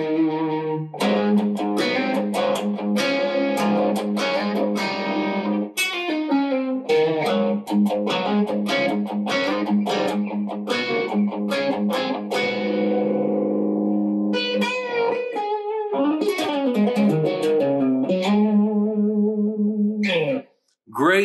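Sire T7 electric guitar driven through distortion, played in a steady run of gritty chords and riffs, close and loud throughout, with a brief pause near the end.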